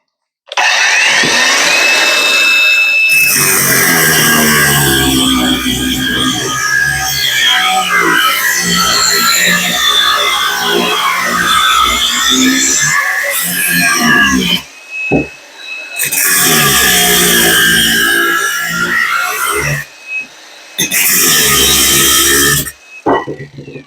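A GROSSER GAG 120 KB angle grinder cuts a 30x30 steel profile with 2 mm walls, whining loudly through one long continuous cut, then several shorter bursts separated by brief pauses.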